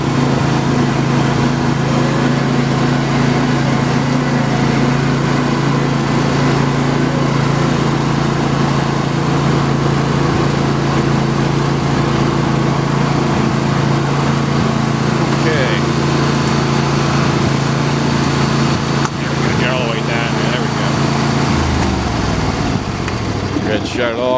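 A John Deere LA120 lawn tractor from the 100 series with automatic transmission, its small engine running steadily with a loud, constant droning hum close by, a person talking over it.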